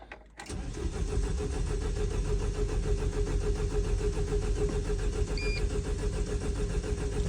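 A car engine cranks and catches at about half a second, then settles into a steady, loud running idle that continues to the end, with a brief faint electronic beep near five seconds.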